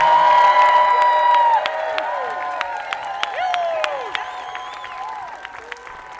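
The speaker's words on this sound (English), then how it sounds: "all right, everyone just cheer" Wedding guests cheer and clap together after the ceremony, with whoops and high whistles rising above scattered applause that is loudest at first and then thins out.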